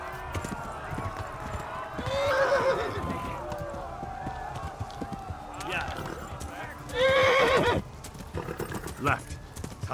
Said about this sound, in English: The horses are still chasing.